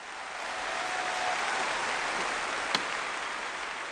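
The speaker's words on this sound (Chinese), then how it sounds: "那么掌声有请" Steady applause from a Suzhou Pingtan storytelling audience at a Spring Festival special performance, a dense even wash of clapping filling the hall for several seconds with one sharper knock near the end.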